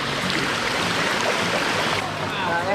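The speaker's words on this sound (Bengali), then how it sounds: "ঝর্ণা সাউন্ড কিন্তু শুনতে পাইতেছেন আপনারা" Khoiyachora waterfall at Sitakunda, Chittagong, gives off a steady broadband rush of falling water, heard up close as constant hiss and roar with faint voices mixed in.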